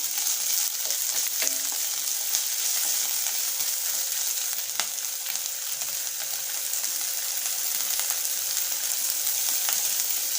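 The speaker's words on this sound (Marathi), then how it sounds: "आता आपण त्यामध्ये घालणार आहोत बारीक कापलेले मिरचीचे तुकडे लसणाच्या पाकळ्या आणि हे तेलामध्ये परतून घ्यायचे आहे" Finely chopped chili pieces and garlic cloves fry in hot oil for a green tomato thecha, giving a loud, continuous close-up sizzle with a few faint clicks from stirring.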